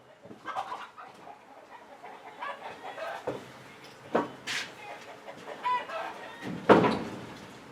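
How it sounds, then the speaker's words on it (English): A rooster clucks and calls in scattered bursts nearby, with a louder crowing call near the end, amid faint background sound. "Rooster, better get from here."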